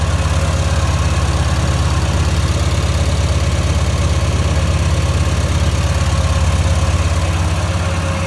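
Sprayer engine idling steadily, a loud, continuous low rumbling drone with even vibration and no pauses, alone without voices.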